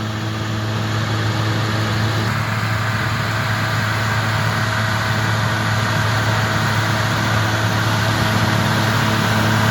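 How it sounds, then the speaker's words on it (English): A John Deere 4250 Power Shift tractor idles with a steady low engine drone and constant hum, unchanging and continuous throughout with no talking. "John Deere 4250 power shift."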